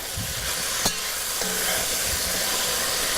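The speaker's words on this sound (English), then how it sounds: "So while everything is cooking down, we'll give a nice stir here." Stirring a one-pot chicken dish in a pot, with a soft sizzle and steady simmering hiss and a couple of brief scraping clinks of the spoon.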